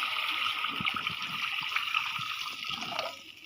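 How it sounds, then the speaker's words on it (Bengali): Water is poured into cooked spice masala in a pan for a fish and brinjal curry, a steady close trickling pour over a hiss of sizzling that eases off near the end. "মশলাটা কষানো হয়ে গেছে আমি এখানে পানি দিয়ে দিব"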